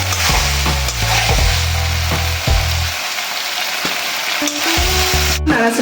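Fried flour pieces are stirred through a spiced potato curry, a loud, close sizzle with repeated clanks and scrapes of a spoon against the pot, tapering into softer bubbling with a late sharp knock.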